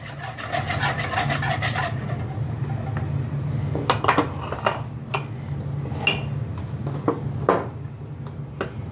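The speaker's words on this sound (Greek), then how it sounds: "Δουλεύουμε καλά με το σύρμα, ούτε μίξερ θέλει ούτε τίποτε." A wire whisk beats cake batter by hand in a bowl, opening with fast, steady rhythmic strokes, then settling into looser scraping and tapping against the bowl sides, close and fairly loud.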